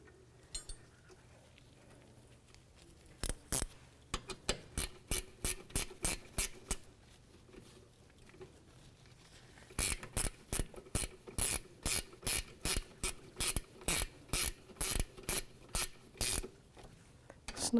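Ratchet with a 14 mm socket snugging rear brake caliper pin bolts on a 2010–2015 Lexus RX350: two bursts of crisp, evenly spaced close clicks, the second longer and louder, over a quiet background.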